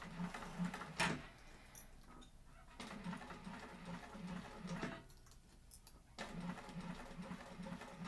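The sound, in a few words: sewing machine stitching piping on a Blanche bowler bag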